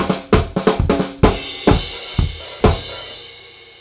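Disco drum groove bar in which snare, kick and crash strike together on several beats, punchy accented hits between busier snare and hi-hat patterns, with the crash washing out at the end.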